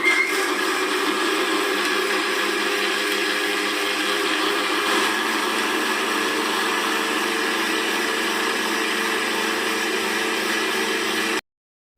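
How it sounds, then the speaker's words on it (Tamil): A mixer grinder blends Oreo cold coffee with a loud, steady motor whine held close and constant for about eleven seconds before it cuts off abruptly into silence; no one speaks. "இப்போ மிக்சியில் நல்லா அரைச்சி எடுத்துகிட்டு வந்துக்கலாம்."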